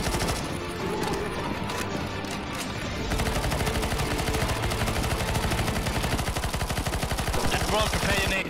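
Dense automatic gunfire in a CS:GO zombie escape match, a loud continuous rattle of rapid shots from several guns, with voices shouting over it.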